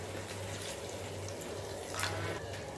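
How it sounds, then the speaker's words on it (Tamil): Water streams steadily into a pot of semiya chicken biryani, a continuous close hiss and splash with a low hum underneath and a slight surge near the end, no voices. "தேவைப்பட்டால் இன்னும் கொஞ்சம் தண்ணி விட்டுக்கலாம்"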